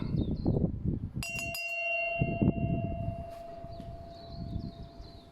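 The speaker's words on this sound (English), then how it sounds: "And of course I got the ship's bell here." A ship's bell mounted in a custom van is struck twice near 1.2 s, leaving a long, bright, ringing tone that fades slowly while a voice talks before and after over a faint background hum.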